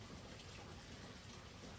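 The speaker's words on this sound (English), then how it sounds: "it looks like the rain has kind of cooled down a little bit" Light rain falls steadily, a soft even hiss of drops with no other sounds rising above it.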